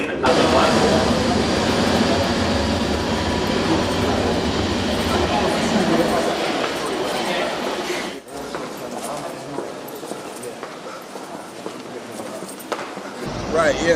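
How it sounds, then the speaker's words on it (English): A London Underground train on the Hammersmith & City or Metropolitan line rumbles loudly and steadily close by, fading and quieting partway through, with a station announcement and voices under the rail noise. "Please mind the gap between the train and the platform."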